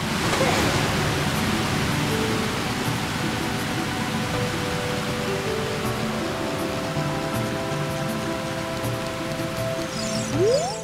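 Steady broadband rushing of a waterfall in the video game Ocarina of Time near Zora's Fountain, continuous and fairly loud, with faint game music tones layered over it.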